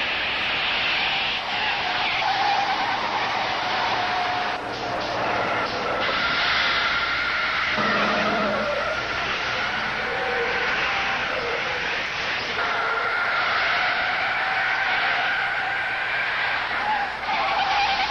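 Two runaway trucks skid toward a stop near a curve, a loud sustained roar and scraping whine with shifting tonal squeals that keeps going unbroken for the whole stretch.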